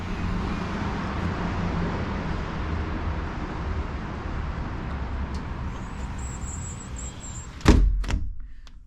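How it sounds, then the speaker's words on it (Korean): Steady street traffic hums outside a balcony of the Miyako City Osaka Hommachi hotel, a constant distant roar of passing cars, ending with a sharp door thud close by. "바깥이 아주 중심가는 아닌데 그래도 차 소리가 꽤 시끄러워요."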